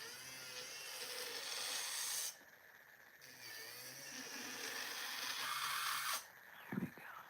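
Rapid scraping strokes of a file or e-file working down the side of an acrylic coffin nail, steady and close, with one short pause partway and a brief tap near the end, no talking.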